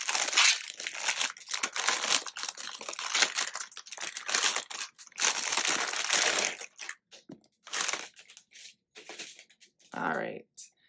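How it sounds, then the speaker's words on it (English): Plastic packaging crinkling and crushing close up while a planner is unboxed, loud continuous crackling that breaks into shorter bursts of rustling toward the end. "it will be loud with the crinkles"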